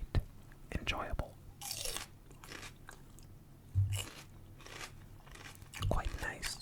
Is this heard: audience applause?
no